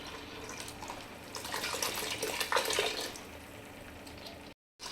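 Water poured into a pot of vegetable and sprout sambar, a steady close splashing stream that swells in the middle and cuts off abruptly near the end.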